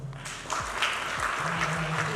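A gathering claps softly and steadily under a faint voice and a low tonal hum, heard briefly at a modest distance.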